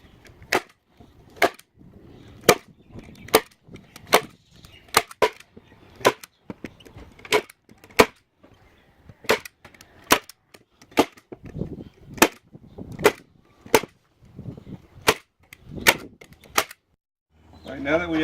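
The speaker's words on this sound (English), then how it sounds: "I prefer using a staple gun to get it done properly." A staple gun fires repeatedly into wooden box planks, about twenty sharp, close snaps spaced roughly a second apart, with faint handling noise between shots.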